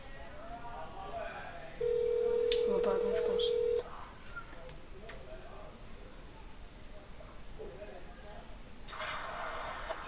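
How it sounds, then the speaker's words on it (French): A steady electronic phone tone sounds for about two seconds early on during a call, with speech around it and some later background noise. "ta sonnerie elle est encore bizarre"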